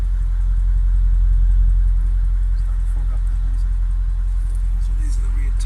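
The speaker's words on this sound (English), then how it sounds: "There we go, this is the exhaust note." Idling exhaust note from a 2003 Mercedes-Benz CLK500 V8 with 225 kW, a steady loud low rumble held throughout at close range.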